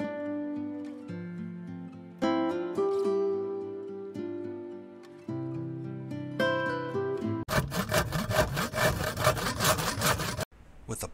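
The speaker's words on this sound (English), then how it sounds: "Plywood gussets cut to the required frame angle" Plywood gussets being sawn to frame angles for the timber frames of a home-built wooden troller yacht, heard as a loud, steady rasping saw run of several seconds, with quieter tonal background sounds before it.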